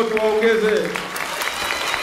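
A crowd at a public meeting bursts into applause, the dense clapping running throughout while a speaking voice overlaps it in the first second.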